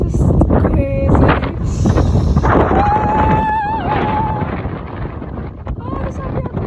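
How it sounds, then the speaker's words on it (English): Strong gusting wind buffets the microphone outdoors in a cold hailstorm while walking in England's Lake District, a continuous roaring rumble with voices talking over it. "it's so cold and windy"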